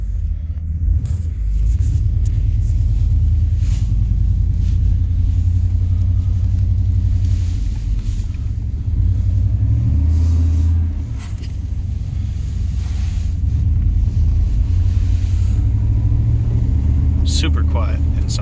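Interior of a 1993 Chevrolet C1500 pickup on the move, with a steady low engine and road rumble and occasional small rattles, while someone talks throughout.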